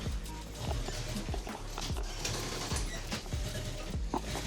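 An industrial sewing machine stitches backpack mesh in a small handmade workshop in Prague, a steady rapid mechanical clatter with regular thumping stitch beats and a whirring motor underneath.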